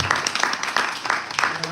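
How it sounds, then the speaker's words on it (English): A small audience gives a brief round of applause, a short patter of hand claps that rises and trails off within a couple of seconds. "A round of applause for Ustad Murtopol."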